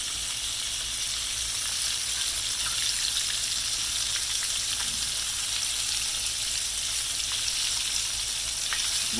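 Mustard-coated fish fries in butter in a pan, a steady, bright sizzle that holds close and even throughout with occasional pops.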